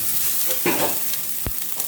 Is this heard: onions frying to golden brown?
yes